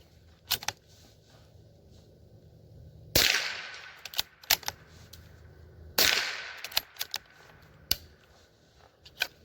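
A Howa M1100 .22LR rifle fires sharp, isolated shots at an outdoor range, some hard cracks and some weaker pops in an uneven rhythm, with pauses between them.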